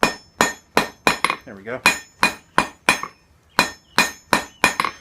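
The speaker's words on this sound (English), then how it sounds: "let's see if I can straighten some of this out." A hammer strikes hot steel about fourteen times in an uneven rhythm, each blow a sharp ringing clang, as a campfire fork is hand-forged and straightened. A brief voice is heard between strikes.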